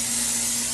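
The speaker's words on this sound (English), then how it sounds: "So we'll go ahead and give that a nice spray" Cooking spray hissing onto a baking dish in one short, steady, close burst.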